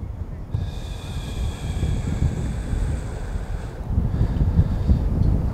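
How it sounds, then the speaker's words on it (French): Strong wind blows against the microphone in a steady low rumble that swells louder toward the end, with a faint sustained tonal hum above it and no talking. "là je sens le vent est puissant"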